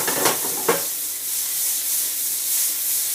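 Mushrooms brown in a frying pan for chicken marsala, a steady close hiss and sizzle with two brief stirring scrapes at the start, no voices.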